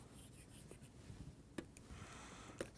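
Faint marker strokes on a board during a math lecture, soft scratchy scribbling with a couple of sharper taps, quiet against a hissy room background.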